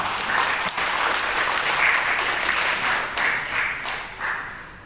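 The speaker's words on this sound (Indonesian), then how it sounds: "Aplaus untuk panjenengan semua." Applause from the audience at a council plenary meeting of the DPRD in Pasuruan, a steady wash of many hands clapping that fades toward the end.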